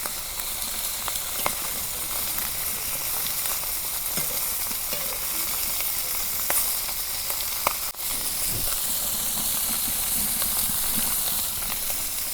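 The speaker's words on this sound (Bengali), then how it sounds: "মাছের মাথাটা আর পিছাটা আমি ভালো করে ভাজা নিতে আসছি।" Head and tail pieces of kalbaush fish frying in hot oil, giving a continuous soft sizzle and crackle with occasional sharper pops and light stirring clicks, moderately quiet and close.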